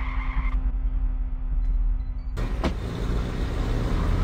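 A car in the horror video game Ice Scream drives with a steady engine rumble, then skids with a sudden tire-squeal burst partway through, loud and continuous, with no talking.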